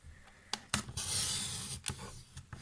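A paper trimmer slices through recycled cardboard, a close rasping rub of the blade across the board lasting about a second, framed by a few sharp taps and clunks of handling.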